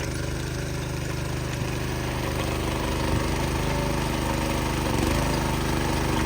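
A small earth auger drill engine runs steadily nearby, digging into heavy, stony ground, with a continuous droning rumble, no speech, holding an even pitch throughout.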